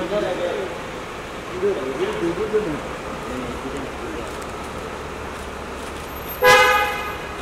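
A car horn honks loudly for a moment near the end, among the arrival of a car at a busy celebrity gathering, over a steady crowd murmur and chatter.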